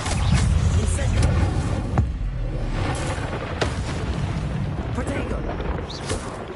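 Repeated Incendio fire spell bursts from the Hogwarts Legacy video game, loud whooshing and booming blasts layered over continuous game action and combat noise, with a voice shouting spell names.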